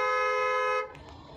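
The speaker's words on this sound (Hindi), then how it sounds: "हॉर्न दो।" A car horn sounds during an uphill driving lesson in a manual car held in first gear: one steady, fairly loud honk that lasts under a second and then stops, leaving quiet road noise.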